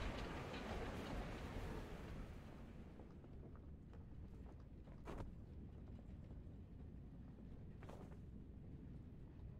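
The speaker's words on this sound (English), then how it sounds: "Also, we're on a train." A train rolls along its rails in the video game Darq with a steady, faint rumble and noise throughout, broken by two brief sharp clanks.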